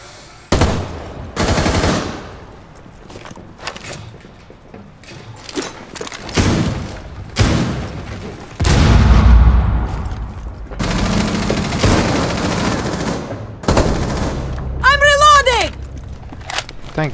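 Loud Rainbow Six Siege gunfire in repeated automatic bursts and heavy booming shots, with thuds and a rising electronic whine near the end, while a player talks over the action.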